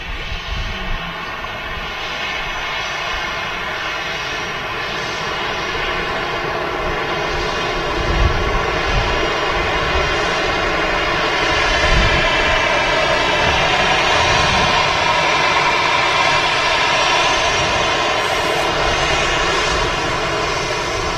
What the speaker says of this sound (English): Nice quick taxi there from the EasyJets.